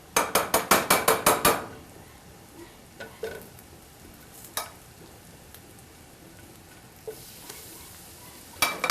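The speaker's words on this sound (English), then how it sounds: "And it's sizzling around the edges" Pan-seared tempeh pieces, dusted in flour, sizzle in oil with a quick series of sharp clatters of the pan or utensil at the start, then scattered taps and a soft crackle, with no voices.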